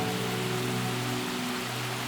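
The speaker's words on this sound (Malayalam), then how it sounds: "പെട്ടെന്നാണ് മഴ പെയ്തത്" Sudden heavy rain pours down on the forest at Gavi, a dense, steady hiss of downpour filling the whole clip with no voices.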